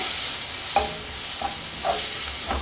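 Crushed dried red chillies and shallots frying in oil for a potato roast, a dense continuous sizzle with about four soft stirring scrapes at regular intervals, near and steady, no voices.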